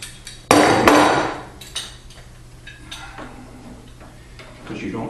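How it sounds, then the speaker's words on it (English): Steam-bent wood being clamped down in a hurry: a loud sharp knock and clatter of metal clamp hardware, then scattered lighter taps and clicks close by, with no voices. "Clamp it down as fast as I can."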